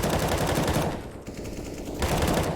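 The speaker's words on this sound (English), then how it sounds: "Dennis and Denislaw trading kills." Rapid automatic rifle fire from a Counter-Strike match, loud and sustained bursts with a brief lull in the middle before firing resumes.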